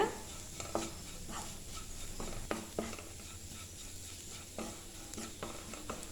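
Spice powders are sautéed on a low flame for a Kerala-style okra curry, with a soft, quiet sizzle broken by occasional spatula scrapes and taps against the pan.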